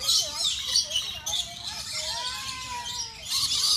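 A bird squawks and squeals repeatedly while being hand-fed nectar at the San Diego Safari Zoo, with short, shrill, close calls under an adult's voice and a child nearby.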